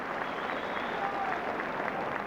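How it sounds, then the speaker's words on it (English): Steady crowd applause fills a football stadium at a Bristol Rovers v Aston Villa match, a dense, even wash of clapping held at a constant level throughout with no clear voices above it. "a big round of applause for young Bater"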